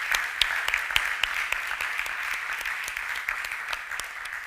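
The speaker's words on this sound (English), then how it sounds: "So just the first applause" An audience at a mental health investment forum claps steadily and evenly throughout, with close individual claps standing out from the general applause.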